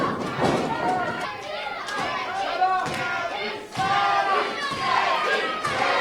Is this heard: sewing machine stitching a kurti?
no